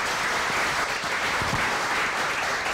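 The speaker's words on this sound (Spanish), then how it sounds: "me pide un aplauso grande para Beatriz Concepa." Audience clapping in a steady, dense wash of applause, continuous and fairly even throughout the short stretch.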